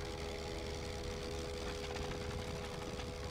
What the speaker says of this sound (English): My engine's sounding a bit dodgy there.